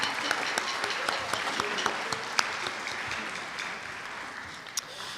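Parents and families in the audience at a school spring band concert applaud in a large hall, a broad, steady wash of many hands heard from a distance with only occasional sharper claps.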